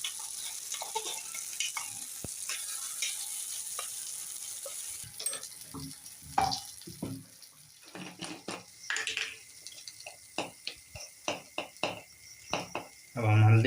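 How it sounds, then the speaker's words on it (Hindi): Milk kadha for cold and cough simmers on a low flame while a spoon stirs the pot, giving a steady soft sizzle broken by intermittent scraping clinks and taps. There is no talking. "धीमी आंच में इसको पकाएंगे"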